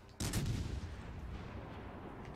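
Naval gunfire in World of Warships Legends, a single sudden boom followed by a long rumbling decay, fairly faint and with no voices.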